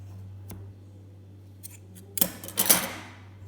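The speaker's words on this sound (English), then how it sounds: "Now we have to cut the thread off." Scissors snip crochet thread in several quick, close cuts during the last second and a half, following a quiet stretch with a steady low hum and a faint tap.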